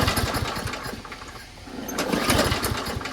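A Craftsman self-propelled lawn mower engine running after starting, a loud, steady buzzing drone that dips briefly and then climbs again.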